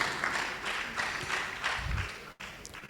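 An audience at a keynote lecture applauding the professor, a moderate, steady patter of clapping with a short dropout near the end.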